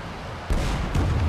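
Anti-aircraft guns opening up in War Thunder tank combat, a sudden loud burst of heavy booming fire that starts partway through and keeps rumbling on, with a second thump shortly after.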